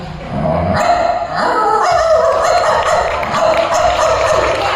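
A male mimicry performer at an inter-university festival imitates a dog with his voice, giving a loud, continuous run of barks, yips and whimpers for several seconds with a constant background roar.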